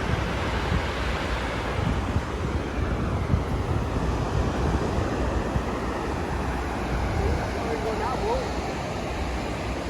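Surf and wind roar continuously at Rockaway Beach in New York City, a loud, unbroken wash of breaking waves with gusts buffeting the microphone.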